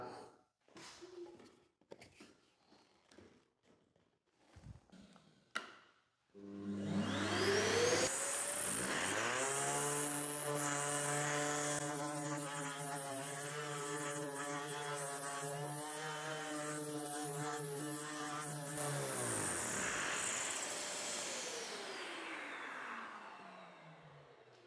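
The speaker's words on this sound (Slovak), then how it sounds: "Po chvíľke je vidieť veľkú zmenu materiálu, teda efektivita brúsenia je podľa môjho názoru veľmi slušná" A Parkside PAESP 12-Li cordless eccentric sander runs with dust extraction attached. After a few handling clicks, its motor starts with a steady, loud whine and holds for about fourteen seconds before winding down.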